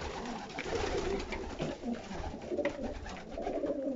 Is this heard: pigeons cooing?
yes